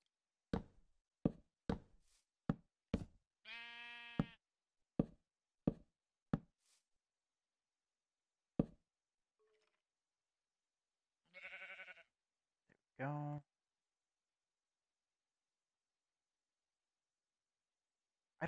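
Minecraft video game sounds: a string of sharp block-hitting taps followed by several short synthetic sheep bleats, scattered across quiet gaps.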